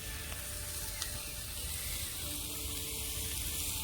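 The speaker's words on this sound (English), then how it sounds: "just let all this saute off for a bit" Curried chicken ingredients sauteing in a pan over an outdoor campfire, giving a steady, close sizzle and crackle of frying with no talking and no break.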